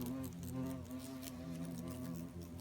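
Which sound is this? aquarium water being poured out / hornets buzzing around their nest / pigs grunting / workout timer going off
hornets buzzing around their nest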